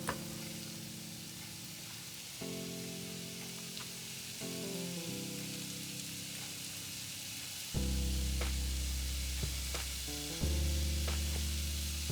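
Chopped onions sizzle steadily in a frying pan at a sausage-and-potato breakfast, with a soft continuous fry and occasional louder bursts and scrapes as they are stirred around, close and alone with no talk.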